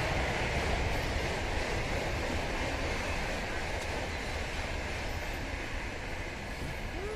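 A train passes by on a railway line beside sandy ground, a continuous broad rumble and rush that stays loud and steady before easing slightly toward the end.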